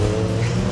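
Road traffic passes near a fun fair by the waterfront in Douglas, Isle of Man; a steady close engine rumble with broadband road noise fills the short stretch, with no voices heard.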